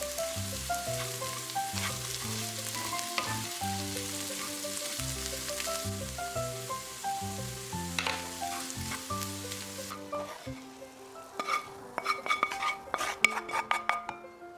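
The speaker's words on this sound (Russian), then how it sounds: "Кусочки тыквы обжариваем на сливочном масле до мягкости." Pumpkin pieces sizzle steadily as they fry in butter, with occasional clinks of a utensil stirring the pan and soft music underneath.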